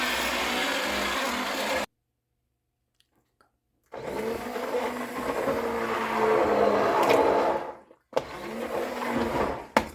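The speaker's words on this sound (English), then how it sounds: "I'm going to use my immersion blender, and I'm just going to blend it up" An immersion blender whirs through roasted butternut squash soup in steady, loud bursts, cutting out for about two seconds before starting up again and briefly pausing once more near the end.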